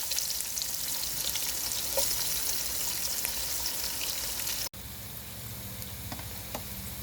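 Chopped onions fry in oil with cinnamon and cardamom for beef biryani, giving a steady, close, loud sizzle that runs unbroken. It briefly dips near the end and then carries on.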